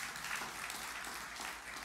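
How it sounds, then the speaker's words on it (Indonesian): A dense, continuous wash of applause from a church congregation, steady and fairly distant, with no voices standing out. "beri tepuk tangan yang meriah bagi Tuhan Yesus."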